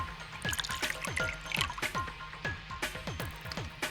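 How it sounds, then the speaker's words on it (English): Ethanol pours into a beaker in a VR video game, rendered as a rapid series of bubbly, gurgling liquid drips and plops, close and fairly quiet, running continuously with no talking. "Alright, next I need to pour the ethanol into the beaker."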